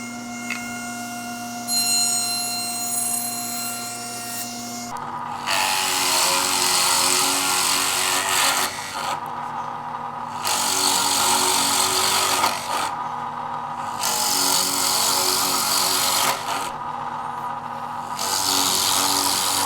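A power tool cuts handle holes through a wooden end piece for a carrying box, loud rasping whine in several bursts separated by short pauses, preceded by a motor spinning up.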